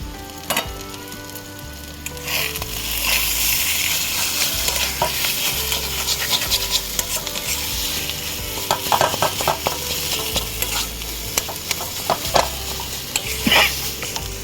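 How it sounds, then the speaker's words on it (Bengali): Potatoes sizzle steadily in hot oil while a utensil scrapes and stirs the pan, with frequent clicks and scrapes over the constant frying hiss. "এখন তো ভালো করে ভেজে নিই"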